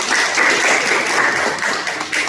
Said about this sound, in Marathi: सगळ्यात आधी आपण डॉक्टर नितीश अग्रवाल आणि जगदीश अग्रवाल यांच्यासाठी टाळ्या वाजवल्या पाहिजे